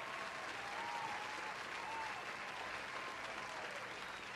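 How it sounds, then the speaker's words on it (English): A soft, steady applause sound effect plays during a home cooking session for fettuccine Alfredo with crispy chicken, with continuous even clapping at low volume. "Thank you for the applause."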